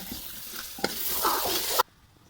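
Chicken pieces coated in dried chilli, salt, dried coriander and turmeric sizzle in a pan while being stirred. Sharp scraping knocks ring out over the close crackle before the frying noise cuts off abruptly near the end.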